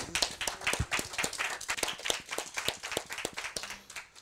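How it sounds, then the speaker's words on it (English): Audience clapping rings out at a high school athletes' college commitment event, distinct individual claps in a quick irregular rhythm, moderately quiet and without talk. "All right, clap it up for him."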